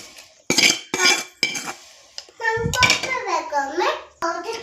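A spoon scrapes and clinks as a food mixture for Andhra-style potato sambar is put into a mixer grinder jar: a few sharp metallic knocks, then a voice talks over quieter handling.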